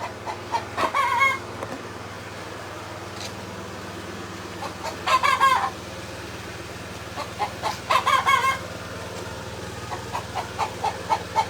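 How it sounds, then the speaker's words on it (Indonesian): Chickens clucking and a rooster crowing in three loud bursts spaced a few seconds apart, close by, over a steady low hum. "Udah muncul mi lagi nih ayam."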